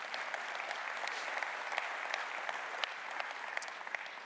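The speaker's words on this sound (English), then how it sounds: "So give yourself a round of applause." A large audience at a conference general session applauds, a steady, even wash of clapping heard from a distance and somewhat faint, with no talking over it.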